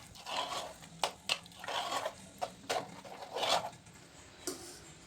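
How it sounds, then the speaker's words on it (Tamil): Palm jaggery (karuppatti) water being stirred into freshly pressure-cooked pongal in a pot, heard up close as irregular wet scraping and squelching strokes, several distinct sharp scrapes standing out with no one speaking. "இந்த சமயத்தில் நம்ம அந்த கருப்பட்டி தண்ணியை ஊற்றி கிளறிடணும்."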